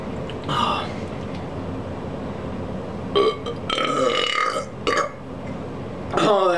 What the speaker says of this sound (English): let's get burping